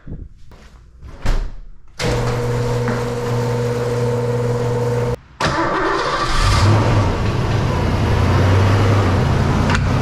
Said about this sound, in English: Car's gonna roll up onto the ramps